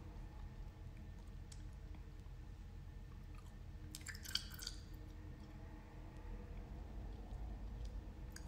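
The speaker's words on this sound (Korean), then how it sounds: "어느 정도 이제 그만 녹이고 싶다 하면 깨물어서 그냥 아작아작 씹어 먹어요." Someone bites down on hard candy, producing one brief crunching burst midway through an otherwise quiet, low stretch with faint mouth noises and no talking.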